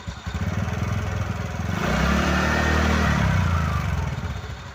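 A TVS Ntorq 125 BS6 scooter engine, just repaired after a one-way bearing fault, revs up close by, rising to a loud steady drone and holding with faint clatter before easing slightly, with no talk over it.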